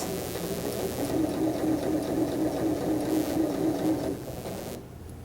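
A sewing machine hums and whirs steadily while stitching along the edge of a hip pocket piece, a close continuous motor drone that slows and stops near the end, with no talking.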